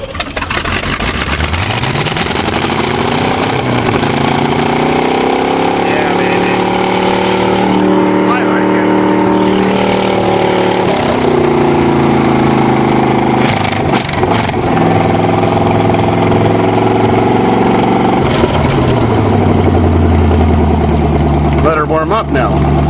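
An older car engine runs and warms up after a choked start, loud and close. The revs climb and fall throughout, and people talk over the running engine.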